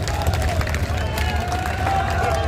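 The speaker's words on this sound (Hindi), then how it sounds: "सारे लोग एक बार हाथ उठाकर तालियां बजा दीजिए" A crowd claps at a political rally in Bathinda, Punjab, attended by defence minister Rajnath Singh. Dense, steady applause and crowd noise fill the whole stretch without a break.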